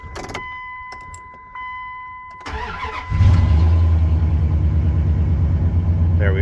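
A 1998 Dodge Ram 1500 pickup: a few soft ticks and a steady electronic tone, then the starter cranks and the engine catches, settling into a loud, steady idle close by.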